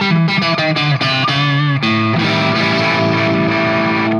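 Fender Player II Stratocaster on the neck pickup, rounded and warm, plays a short phrase of picked notes, then lets a sustained chord ring out, loud and close with a light overdrive edge.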